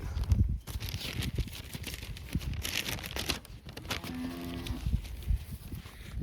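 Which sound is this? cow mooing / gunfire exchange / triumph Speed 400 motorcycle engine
cow mooing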